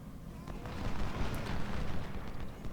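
Artillery cannon fire in the Ultimate General: Civil War video game, First Battle of Winchester: a steady stream of overlapping booms and rumbling bursts at moderate loudness, with no clear gaps between shots.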